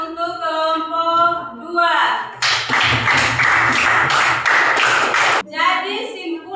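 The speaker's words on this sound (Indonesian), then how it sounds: "Kita berikan tepuk tangan untuk kelompok" A classroom gives a discussion group a round of applause: a dense, steady burst of claps lasting about three seconds, with a teacher's voice talking before and after it.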